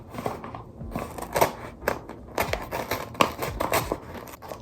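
Scissors snip and crinkle through the packaging of an imported Philodendron pastazanum shipment, with short close cuts and rustling plastic in an uneven, busy rhythm.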